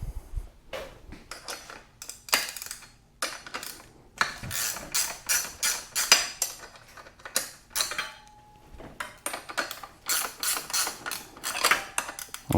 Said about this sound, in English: Let's use a ratchet wrench.